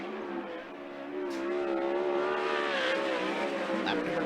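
A 360 sprint car laps Skagit Speedway coming off a corner, its high-pitched engine whine rising and holding loud and close as it accelerates past, with faint crowd or announcer noise beneath.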